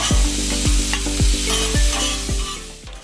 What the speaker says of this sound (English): you're going to give maybe 30 seconds, maybe up to a minute of tossing these vegetables